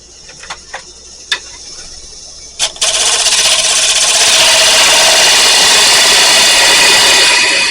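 A wooden bowl spinning on a lathe while being cut with a gouge: a few light knocks and taps, then a loud continuous hissing, scraping cut that holds steady and close for several seconds.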